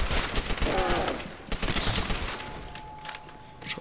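Rapid bursts of gunfire from Call of Duty: World at War zombies mode on a custom map, loud automatic fire in dense clusters that thin out toward the end, with a faint electronic tone and brief game sounds.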